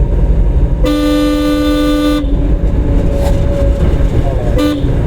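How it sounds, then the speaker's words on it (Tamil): A car horn gives one long, loud blast and then a short toot during a driving lesson, over steady road and engine noise close by. "ஹார்ன் அடிச்சு"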